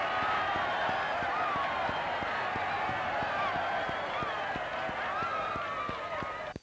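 A large ball-game crowd cheers and roars in one dense, unbroken wall of noise, loud throughout, with a faint regular ticking running underneath and no one speaking.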